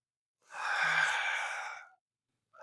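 A single deep, breathy inhale during a Pilates stability exercise, lasting about a second and a half and heard close and alone, with silence before and after.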